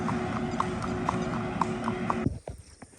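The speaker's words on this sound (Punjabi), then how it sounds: "ਘੋੜੇ ਦੇ ਪੌੜਾਂ ਦੀ ਚਾਲ ਆਵਾਜ਼" A horse's hooves clip-clop in a steady, even rhythm on a hard surface during a ride, over a low rumble, then the noise drops away abruptly near the end.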